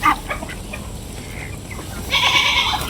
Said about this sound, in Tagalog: Nagagalit si kambing.